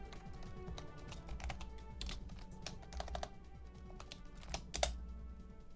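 Rapid typing on a computer keyboard during a livestream, a steady run of close, crisp key clicks with a few louder keystrokes, with no talking.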